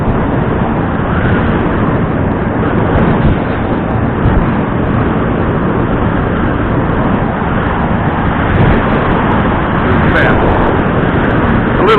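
A two-stroke outboard motor on a fishing boat heading along the outer reach drones loud and close, a steady unbroken roar that fills the whole stretch.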